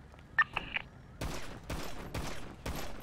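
Gunfire in a GTA roleplay video game: a few short electronic blips, then four loud bursts of rapid automatic fire in quick succession, each a dense rattling volley separated by brief pauses.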